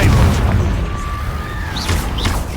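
A Depulso spell blast in the video game Hogwarts Legacy, a loud booming burst at the start that rolls off into a rumbling tail with faint whooshing magical effects.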